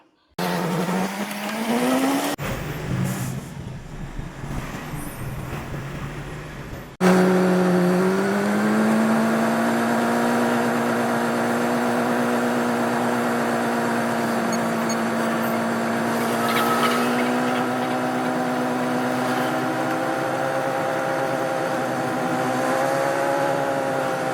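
A truck loaded with coconuts runs non-stop on the road from Pollachi to Bangalore, its engine a steady, close droning hum that dips briefly early on, then holds an even, continuous tone.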